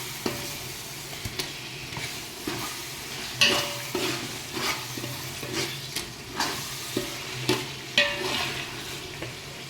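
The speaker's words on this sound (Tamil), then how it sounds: "இப்போ இதில் நாம் கறி சேர்த்துடலாம்." Chicken pieces are stirred into fried biryani masala in a pot, with a steady low sizzle and a series of close, regular scraping and clanking spoon strokes, no voices present.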